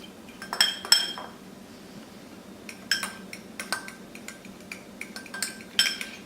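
Lotion being mixed into slime in a bowl, heard as scattered sharp clinks and scrapes of a utensil against the bowl, in irregular clusters with quiet gaps, close and fairly faint, no talking.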